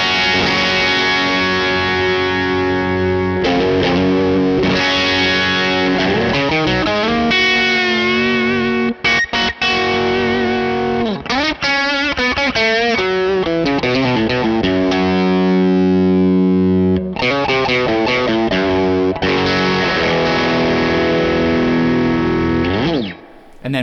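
Electric guitar through a Kernom Ridge overdrive pedal gives a hairy, gritty distorted tone, with loud strummed chords and sustained notes ringing and bending over about twenty-four seconds and no voices.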